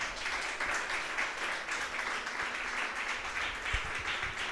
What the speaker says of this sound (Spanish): Unas palmas al Señor.